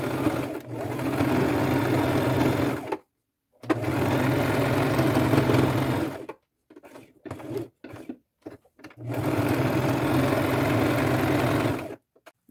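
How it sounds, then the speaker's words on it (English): A sewing machine runs a small straight stitch around the edges of a fabric patchwork art bag, humming loudly in three long bursts with a few short stop-start runs between them, no talking. "go to my machine, and again, stitch across the top, all the way around the sides, using a fairly small straight stitch"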